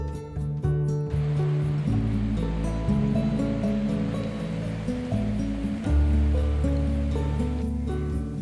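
Water of the Bela stream flows steadily and continuously, a close, even rushing wash with no voices over it.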